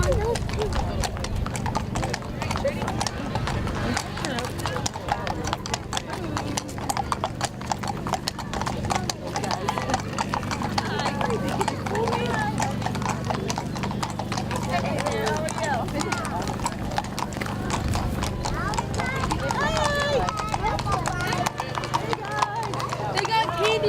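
Horse hooves clip-clop steadily at a Memorial Day parade in Plympton, a continuous close rhythm of shod steps on pavement running under crowd chatter and people talking, with the occasional whinny.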